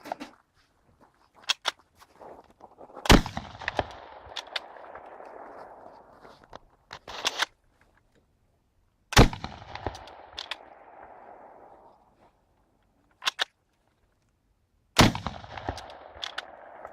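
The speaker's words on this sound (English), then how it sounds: "shooting 8 rounds with the Chassepot" Chassepot rifle fired outdoors: three loud, sharp reports spaced about six seconds apart, each followed by a rolling echo, with handling clicks and footsteps in between.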